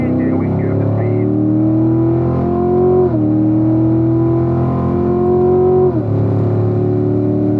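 A car on a race track powers out of turn 10 with a smooth unwind, its engine droning loud and close and climbing steadily in pitch, easing off twice briefly as it shifts up before pulling again.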